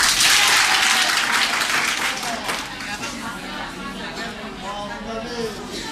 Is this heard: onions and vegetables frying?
no